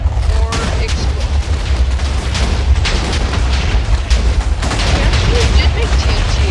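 Masses of TNT detonating in Minecraft, a relentless, loud barrage of overlapping booms and pops with a voice speaking over the rumble.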